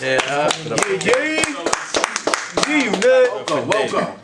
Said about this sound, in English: Let's clap it up for Dave one time.